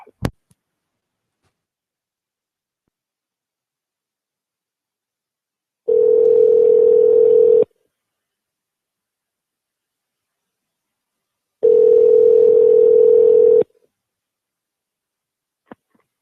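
Telephone ringback tone while calling someone back, two long steady beeps a few seconds apart separated by silence, with faint clicks at the start and end.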